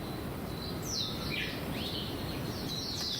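Bonin white-eyes on Hahajima island give thin, high chirping calls in short bursts over a steady background hiss, faint and somewhat distant.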